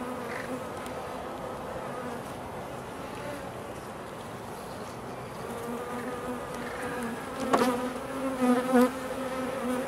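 Honeybees drone steadily around an open hive during an inspection. The close, continuous buzz holds a constant pitch, with a few louder passes near the end and faint handling noises.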